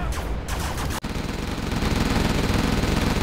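Rapid, continuous Gatling cannon fire in Command & Conquer Generals Zero Hour rattles loudly, briefly pausing then resuming in a dense, unbroken burst.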